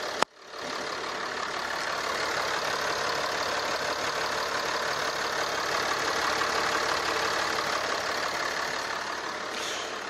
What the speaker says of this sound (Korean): 지금 한번 바로 엔진 소리 들려드리도록 하겠습니다